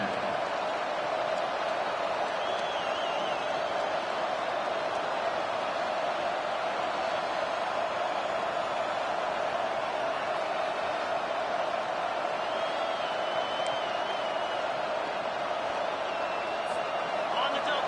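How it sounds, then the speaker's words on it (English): Stadium crowd at a college football game against Ohio State roaring after an interception, a dense, steady wall of cheering and noise sustained loud throughout. "This crowd, full throat, splitting the eardrums and letting them know it's going to be a long day"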